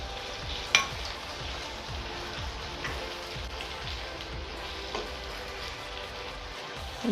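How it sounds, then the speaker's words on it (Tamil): Cashew nuts frying with tomatoes in a pan for restaurant-style butter chicken, a continuous rain-like sizzle with faint spoon scrapes and a sharp clink near the start, close and without talk. "இப்போ இந்த ஸ்டேஜில் cashew nut 15 grams cashew nut போடுறேன்"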